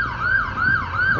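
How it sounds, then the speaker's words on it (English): An ambulance siren wails nearby in downtown San Jose on Cinco de Mayo, a rapid rising and falling sweep repeating three times, loud and clear with no voices. "Now here go the ambulance."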